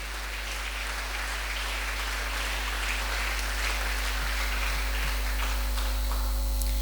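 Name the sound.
congregation clapping loudly in worship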